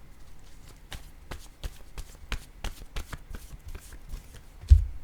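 Oracle cards are shuffled by hand during a reading, a steady run of crisp, close riffling snaps at an even rhythm that ends in a louder thump, with no voices.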